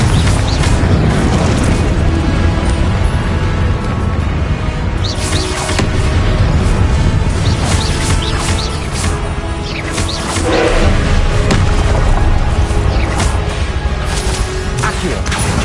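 Loud, repeated fiery Confringo spell blasts in Hogwarts Legacy, booming in quick succession amid roaring creatures and constant combat clatter.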